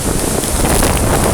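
Strong wind at Lochranza on the Isle of Arran roars and buffets the microphone in a continuous, loud blast with no voices.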